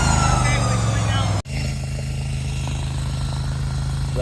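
A remote-controlled mule moving a 14x36 finished tiny house gives off a steady, loud mechanical drone close by. It hums on continuously with a brief dropout partway through.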